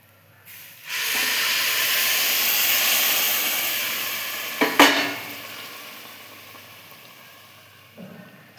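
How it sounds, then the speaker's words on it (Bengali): Water is poured into a hot pan while cooking and bursts into a loud, broad hiss and steam that peaks with a couple of sharp crackles, then slowly fades and dies down. No one speaks. "এবার জল দিয়ে দেবো।"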